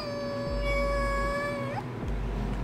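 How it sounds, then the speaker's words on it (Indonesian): A single drawn-out cat meow, steady then rising sharply at the end, heard clearly over a low background hum. "Kayak suara kucing nih."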